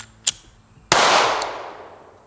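Pistol shot striking a steel target, a sharp crack followed a moment later by a loud ringing blast that decays over about a second, with a faint click before it.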